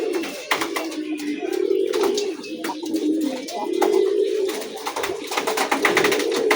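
Pigeons released in the morning and fed coo together continuously in a loud, close chorus of overlapping rolling calls, with light clattering and rustling mixed in.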